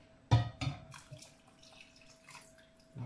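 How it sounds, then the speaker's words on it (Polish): Cold water splashes and trickles into a pot of cooked rice in a few short bursts, then settles into a faint, steady pour with small drips near the microphone. "Do garka musimy dolać 2 szklanki zimnej wody."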